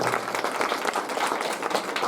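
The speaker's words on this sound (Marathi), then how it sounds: "त्याबद्दल त्यांच्यासाठी सुद्धा जोरदार एकदा टाळ्या वाजवायच्या" Thick, steady applause from worshippers at a dawn mahapuja in the Vitthal-Rukmini temple at Munjwad, many hands clapping together at close range without pause.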